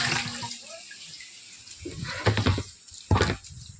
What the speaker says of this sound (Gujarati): ઓટોમેટિક ટાંકો છે, અહીંથી પાણી આવે છે, નળમાં પાણી આવે છે.